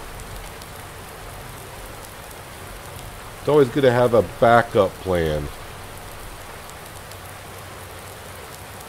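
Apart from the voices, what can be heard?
rain falling in the video game Farming Simulator 19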